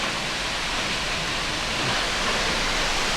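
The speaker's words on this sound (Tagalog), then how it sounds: "Ayan na ang falls ng malapitan ng konti." Close-up roar of Multnomah Falls, a dense steady rush of falling water that holds constant and loud throughout with no voices.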